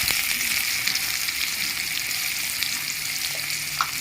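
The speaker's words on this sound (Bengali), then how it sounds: "পেঁয়াজটা একটু লাল করে ভেজে নেব" Chopped onion frying in hot oil with cumin seeds and dried chili, giving a loud, dense, continuous sizzle close up with no talking.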